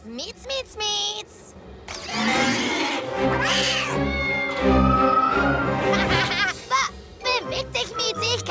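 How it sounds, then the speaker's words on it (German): A cartoon kitten meows in a short series of high, wavering cries, mixed with animated voices talking over and between them. "Oh, noch ein Kätzchen zum Erschrecken."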